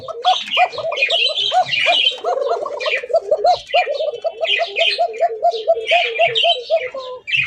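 Basiraj pigeons at a busy pigeon market chirp and call in quick, rhythmic repeated bursts, loud and close, with more birds chattering behind them.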